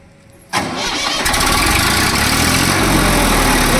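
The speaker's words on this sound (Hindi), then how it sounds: "तो भैया जी अब करने जा रहे हैं ट्रैक्टर स्टार्ट" A John Deere tractor engine cranks and fires abruptly, then settles into a loud, close, steady diesel idle rumble that carries on to the end.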